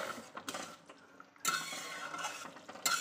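Metal pot lid lifted off a pan of pumpkin, potato and chickpea curry simmering on a low flame, a sharp clatter followed by a sustained bright hiss of escaping steam, close and fairly quiet.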